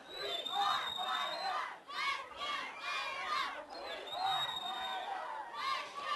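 A crowd at a high school football game, Monte Vista at Center, roars and chants in loud rhythmic bursts with a few brief dips, voices massed together and fairly near as cheerleaders work the stands.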